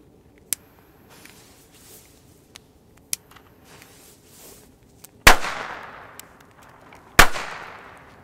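Two loud, sharp bangs from large silver firecrackers go off a couple of seconds apart, each followed by a crackling decay, after several smaller distant pops.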